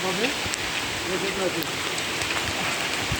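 Steady, dense downpour of heavy rain at night with a constant hiss throughout, a faint voice briefly audible beneath it.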